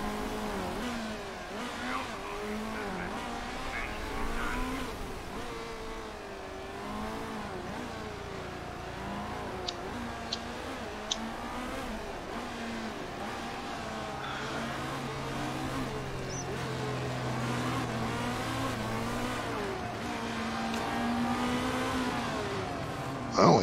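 Race cars on a sighting lap in Motorsport Manager, engines droning and revving steadily at a moderate distance with rising and falling pitch, plus a few brief clicks, and no talk.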